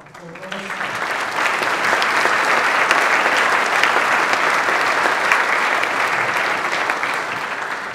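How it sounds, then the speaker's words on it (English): An audience at a panel discussion breaks into loud, sustained applause that swells within a second and holds steady for several seconds. "I would like a round of applause for those"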